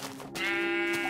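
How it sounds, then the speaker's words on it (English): A single sheep in the Minecraft video game gives one short, clear bleat, close and isolated. "another sheep."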